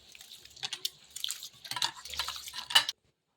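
Rice being washed by hand in a bowl of water produces soft, close sloshing and dripping splashes in short irregular bursts, fairly quiet, ending abruptly.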